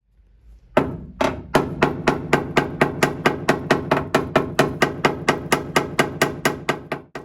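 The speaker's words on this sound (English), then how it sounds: "Notice how much dirt came out with just some tapping from a hammer." Metal hammer blows tapping on the rusty rear cab corner of a 1964 Chevrolet C10 pickup: about twenty sharp, ringing strikes in a fast, regular rhythm, close and loud, after a short quiet start.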